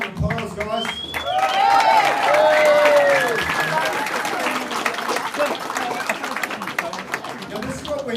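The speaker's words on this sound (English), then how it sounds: "Give them all a round of applause" Crowd applause for Victorian election candidates at a supporters' meeting in Melbourne, sustained clapping from many people with a few voices calling out over it early on, continuing at a steady level to the end.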